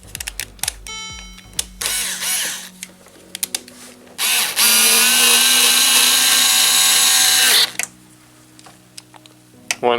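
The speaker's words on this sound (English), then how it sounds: "One person with the Torx 25 is going to install the 3 screws on the back side." Power driver or ratchet running Torx 25 screws into the back of a Mercedes W204 C-Class door, short mechanical clicks and bursts early, then a steady loud whirring run of several seconds before stopping, close by.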